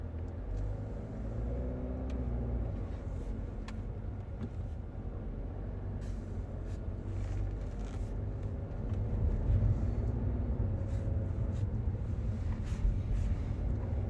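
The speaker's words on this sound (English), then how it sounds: "Caught in a little bit of traffic here." Heavy Friday-evening road traffic in Reading, UK, heard from inside a car: a steady low rumble of engines and tyres that swells slightly midway, with no talking.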